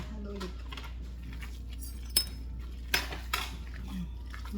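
Utensil clinking and scraping against a bowl while burger patty mixture is stirred with garlic powder, onion powder and ketchup, a few sharp clinks over a quiet background with faint talk.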